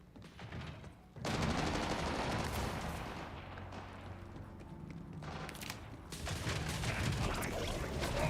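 Bursts of SMG fire in the video game Borderlands 4 come as dense rapid rattles, one short volley then longer sustained strings of shots, loud and continuous with only brief gaps between.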